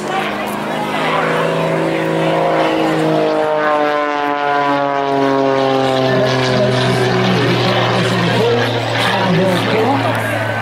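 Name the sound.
aerobatic propeller aircraft performing tumbling flick rolls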